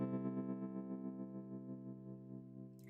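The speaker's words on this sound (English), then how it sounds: "You can kind of hear that wah, wah," A single sustained guitar note runs through an EarthQuaker Devices Night Wire auto-wah pedal, its tone wavering and pulsing slightly as it slowly fades, quiet and alone.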